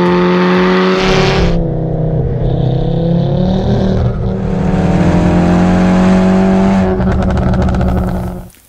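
Turbocharged car accelerating hard in second gear: a loud, close, continuous engine roar with rising revs, a brief dip at a shift, then climbing again before cutting off sharply at the end.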